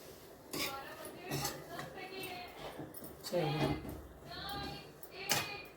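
Vegetable curry is stirred in a pan, with close metallic scrapes and clinks of a spoon against the pan recurring every second or so, while someone talks softly throughout.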